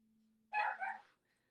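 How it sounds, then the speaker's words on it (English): Small chihuahuas barking indoors: a short, loud burst of two or three quick overlapping yaps that stops almost at once, with a faint low hum beneath. "The little chihuahuas are going nuts."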